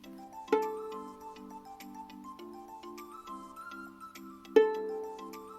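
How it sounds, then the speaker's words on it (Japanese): A plucked instrument string rings out clearly twice, several seconds apart, each pluck a sharp bright attack followed by a sustained, slowly fading tone over soft, quiet background notes. "今私は楽器の弦を弾いたのですが"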